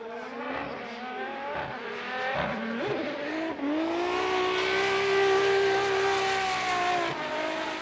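A GR86 race car at Fuji Speedway goes hard on the throttle, its engine note climbing through quick gear changes and then holding a loud, sustained high-revving whine that fades slightly at the end.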